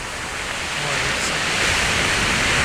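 Rough sea waves break by a ruined pier after a night of rain, a steady broadband wash of surf that swells slightly louder toward the end.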